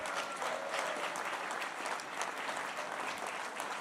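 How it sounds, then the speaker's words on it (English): Sustained applause from an audience at an international policy summit plenary session in Jerusalem, a dense steady wash of many hands clapping throughout at moderate level, with no speech over it. "I want every one of you to give yourself a round of applause"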